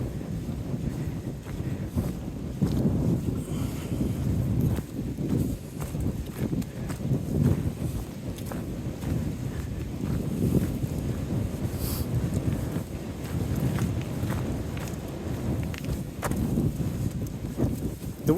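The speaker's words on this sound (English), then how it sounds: "The wind's blowing pretty good up here. I hope it's not making the sound quality on the video too bad." Wind gusting across a mountain ridge on the Appalachian Trail in Georgia buffets the microphone, a steady low roaring rumble that persists for the whole stretch with no one talking.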